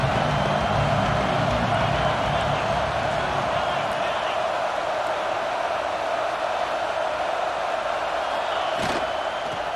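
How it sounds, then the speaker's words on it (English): Stadium crowd roar in the College Football 26 video game during an Ohio versus Ohio State matchup, a loud continuous wall of cheering noise that holds steady throughout. "This crowd bringing the energy and noise early."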